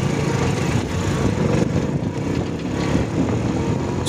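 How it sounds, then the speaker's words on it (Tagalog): Heavy engine noise from a backhoe and trucks at a one-lane road construction site near Taal Lake, Batangas, a loud dense rumble that runs steadily throughout with no talk over it. "Ayan, may backhoe, may mga truck."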